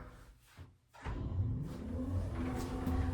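Residential elevator in a lakefront cabin starting up after a quiet moment, then a steady low mechanical rumble and hum as the car moves, close and continuous with no talking.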